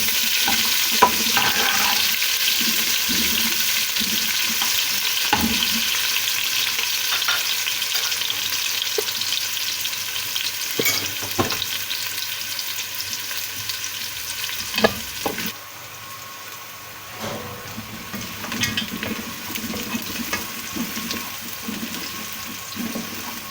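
Onions go into hot oil with garam masala in a pot for chickpea pulao and sizzle steadily, with intermittent stirring scrapes and clicks from a spoon throughout.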